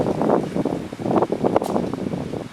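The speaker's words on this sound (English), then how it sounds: "now the wind's picking up" Outdoor wind gusts around a screen house canopy tent being set up, buffeting the microphone in an irregular, close rumble that swells and dips without any speech.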